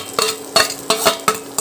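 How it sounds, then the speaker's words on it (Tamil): Fried fish pieces being stirred into a fish pickle mixture in a pan, with four rhythmic scraping strokes of a spoon over a low sizzle, close and fairly loud. "இப்போ நம்ம மீன் சேர்த்து அதையும் நல்லா வந்து கிளறி விட்டுறலாம்."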